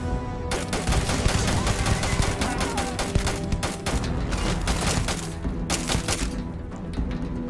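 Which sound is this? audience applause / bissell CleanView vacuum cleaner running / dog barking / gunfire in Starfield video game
gunfire in Starfield video game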